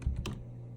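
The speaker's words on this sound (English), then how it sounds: "We're going to type in resource" Quick, close clicks of a computer keyboard as a short command is typed, a few light keystrokes over a quiet room hum.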